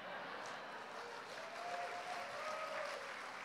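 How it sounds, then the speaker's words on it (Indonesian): Audience applause during a conference session: a steady, even wash of many hands clapping that fills the room throughout, with faint voices mixed in. "Saudara jangan tepuk tangan dulu"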